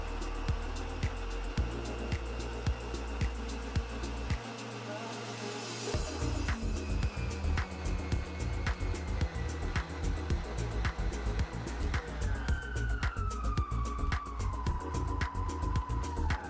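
Electric mixer whipping fresh cream at its highest speed for a sponge cake: a loud, steady motor whine with a pulsing rhythmic churn, its pitch sliding downward near the end as it winds down.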